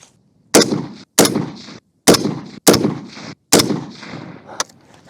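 Five sharp, loud rifle shots from the Orca, spaced roughly half a second to a second apart, each followed by a short decaying echo on an outdoor accuracy-testing range. A faint sixth crack comes near the end.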